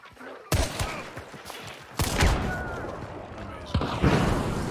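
Dragon Breath incendiary shotgun rounds fire in a Hunt: Showdown match, three loud blasts spaced over a few seconds, each trailing into a long burning roar, with a brief voice under the noise.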